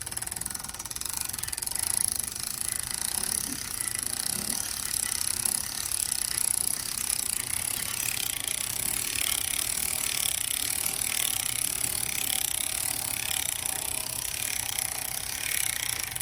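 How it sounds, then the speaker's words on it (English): A HandTorque calibration rig takes up load, giving off a steady, loud mechanical whir and grind with faint ratcheting texture that continues without pause. "once the rig starts to take load, the whole mechanism tightens up"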